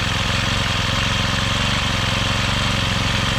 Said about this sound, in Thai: ออุ่นเครื่องสักพักหนึ่งครับ